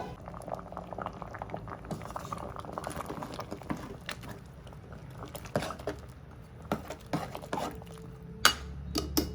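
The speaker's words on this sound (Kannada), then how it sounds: "ಮೀಡಿಯಮಲ್ಲಿ ಇಟ್ಕೊಂಡು ನುಗ್ಗೆಕಾಯಿನ ಬೇಯಿಸ್ಕೊಳ್ಬೇಕು" Moringa drumstick pods boil on medium heat in a pot of drumstick saaru, a steady close bubbling and gurgling with irregular pops and small splashes throughout.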